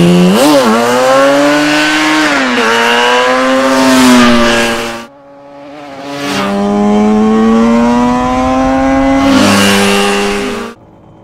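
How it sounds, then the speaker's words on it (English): A loud Yamaha RD350 two-stroke motorcycle engine revs hard through two long pulls with a brief drop between them, buzzing and rising in pitch. "Listen to that lovely RD350 engine."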